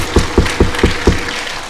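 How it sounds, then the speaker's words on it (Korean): A church congregation at a Sunday service claps together in a steady, evenly spaced rhythm, five strong beats close up, then fading out. "우리 한번 박수 좀 한번 해요."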